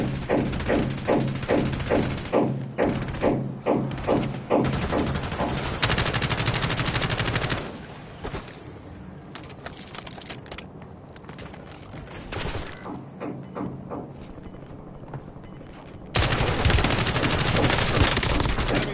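Call of Duty: Warzone gunfire: loud rapid bursts of automatic fire with punchy repeated shots, then a quieter stretch of scattered distant shots and mechanical clicks before another heavy burst.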